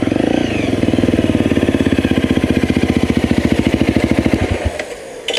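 A Honda CRF dirt bike labours up a steep hard-enduro gradient, its engine pulsing in a rapid, steady four-stroke chug under load, close and loud throughout, then easing off and dropping away near the end.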